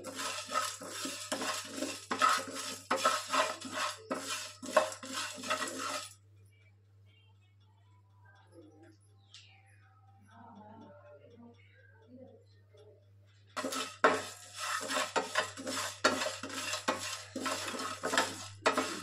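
Raw chana dal and other ivy gourd chutney ingredients dry-roasting in a pan over a low flame, with busy scraping and clattering stir strokes, a long quiet pause in the middle, then steady stirring again.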